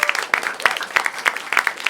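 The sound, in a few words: audience applause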